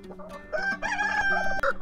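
A rooster crows loudly and close by, with chickens clucking around it in a brief burst.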